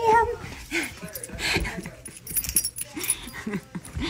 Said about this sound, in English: And somehow I've landed with a dog.